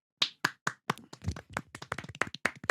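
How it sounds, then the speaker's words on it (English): Podcast hosts give a soft golf clap: a few spaced, crisp hand claps close to the microphone, then quicker, lighter clapping that overlaps, all quiet and intimate in a small studio. "I like this little golf clap we've started doing at the start of the"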